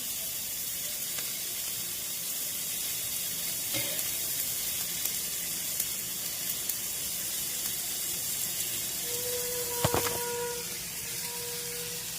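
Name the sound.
mustard seeds sizzling as they are tempered in hot oil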